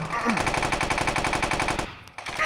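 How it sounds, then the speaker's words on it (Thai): Rapid machine gun fire from the video game Slaughter rattles in a long, dense, loud burst lasting about two seconds before cutting off into brief quieter clicks. "โอ้โหกระสุนเปลืองมากอ่ะกว่าพวกมึงจะตายกูหมดไปแล้ว"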